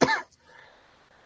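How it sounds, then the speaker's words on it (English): A single sharp cough, close and brief, followed by quiet room tone. "God, stupid coughing."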